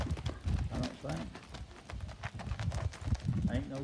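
Bay standardbred gelding's hooves clip-clopping in an uneven series of close thuds, with a voice talking over them.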